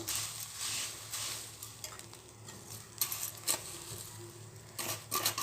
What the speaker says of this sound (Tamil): இந்த கருவேப்பிலையும் நல்லா மொறு மொறுன்னு வரணும் அந்தளவுக்கு வறுத்துப்போம்